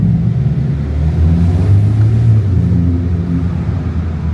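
A manual Subaru WRX climbs a parking garage ramp in low gear, its engine rumbling steadily and loudly throughout, with a deep, continuous drone and slight swells in revs.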